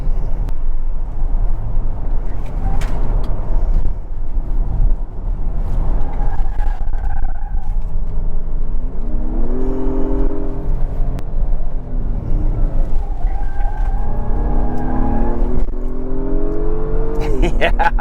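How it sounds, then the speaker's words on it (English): An Acura MDX Type S SUV drives through corners, its engine humming steadily inside the cabin and rising in pitch with repeated acceleration sweeps, while a person talks throughout. "Yeah, this is a fast reacting SUV."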